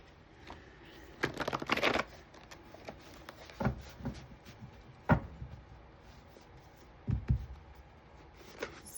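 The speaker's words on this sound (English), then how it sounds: "Give this a couple shuffles here." Tarot cards are shuffled in several quiet bursts of riffling and rustling, separated by short pauses and soft handling noises, close to the listener in a calm room.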